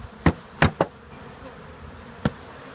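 Honeybees buzz faintly around a hive, under a few sharp knocks and thumps of handling close by.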